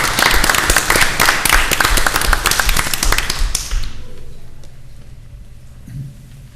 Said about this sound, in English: I'm just going to clap for y'all.